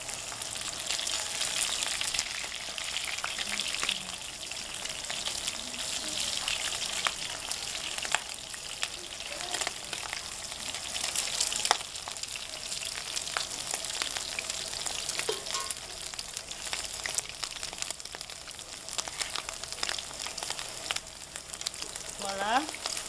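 Chicken pieces frying in hot oil make a steady, moderately quiet sizzle with intermittent crackles and the clatter of a utensil against the pot.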